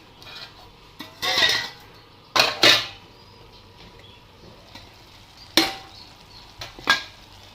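Lid put onto a cooking pot of vegetable curry in a home kitchen, heard as a few sharp metallic clanks and clatters spaced out over several seconds, close and fairly loud with quiet between.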